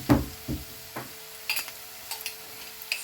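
Carrots tipped into onions frying in a pan for pea soup, setting off a burst of sizzling with a few sharp stirring knocks and softer crackles spread through the rest.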